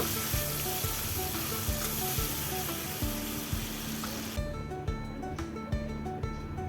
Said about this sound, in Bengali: জলের মধ্যে হলুদ গুলে রেখেছিলাম দু চামচ মতো সেই হলুদ গুলা জলটা দিয়ে দিলাম একটু নেড়ে চেড়ে নেব